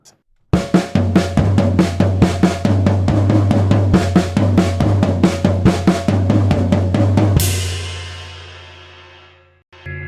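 Snare and floor tom drum exercise played up to speed: a rapid, steady run of strokes moving between the crisp snare and the low, resonant floor tom, ending on a crash that rings out and fades, close and loud without voices.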